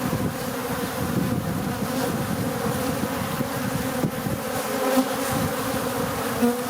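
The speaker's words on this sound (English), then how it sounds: "There's a little honeybee with some pollen trying to go in the hive." Honeybee drones swarm around a beehive, filling the air with a dense, continuous buzz of many insects close by, with no voices.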